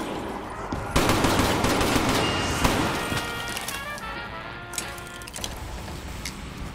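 Gunfire in Call of Duty Black Ops 3 Zombies: a loud burst of rapid automatic fire begins about a second in, then continues as sustained shooting with scattered sharp cracks, gradually easing in level.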